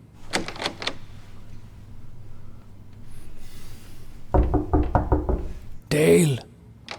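Sharp knocks strike a door in quick bursts, a short run of three and then a longer run of five or six, loud and close, with a voice shouting in between.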